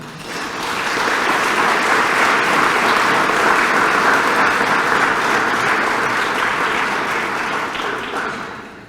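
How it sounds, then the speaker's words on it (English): Dense, sustained applause from a large audience at an annual tourism meeting, rising quickly and holding steady for several seconds before easing off at the end. "let's all give each other a round of applause."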